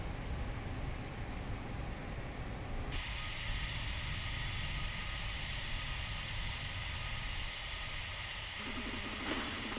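Jet engines of an Avro RJ/146 roar steadily during braking on landing in a Prepar3D v4 simulator, a continuous heavy rumble that shifts to a brighter, harsher rush partway through.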